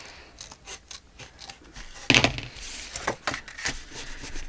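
Small squatty scissors cutting fabric for a craft pocket, a series of short crisp snips and rustles close by, with one louder sharp cut midway.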